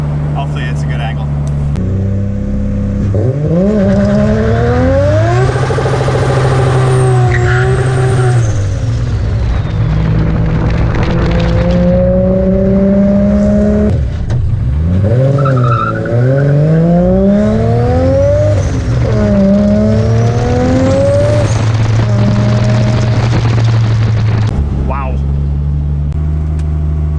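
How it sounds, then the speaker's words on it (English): An RB25-swapped Nissan 240SX engine in a garage revs repeatedly, climbing in rising sweeps and bouncing hard off the rev limiter for long stretches, loud and close throughout. "Didn't mean to hit rev limiter that hard for that long"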